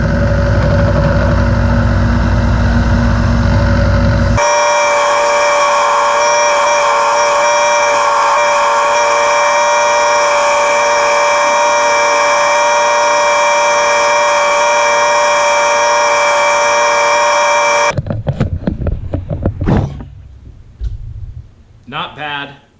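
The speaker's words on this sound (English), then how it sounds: "I'm going to use the big sander quite a bit." A large power sander runs loudly and steadily against a carved wooden crankbait lure, a droning whine holding for most of the clip before cutting off into shuffling handling noise.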